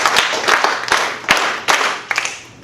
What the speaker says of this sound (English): 5 claps and a snap from Marissa